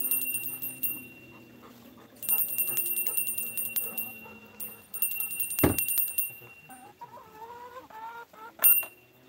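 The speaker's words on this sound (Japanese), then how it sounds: "鶏さんたちも出てくれたらいいんですけどね" Chickens cluck in a rural satoyama countryside setting in Japan, intermittent clucks and calls heard at a moderate distance amid a steady high tone, a sharp knock and a dog in the mix.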